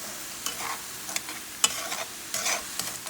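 Food seasoned with cayenne pepper and oregano being stirred in a hot pan, soft sizzling under a few sharp scrapes and clicks of a utensil, quiet and close, with no talking.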